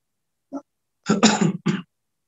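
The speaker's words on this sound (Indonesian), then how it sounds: "mohon maaf ini masih batuk-batuk." A short throat-clearing cough, then a burst of harsh coughs in quick succession, close and fairly loud, with silence around them.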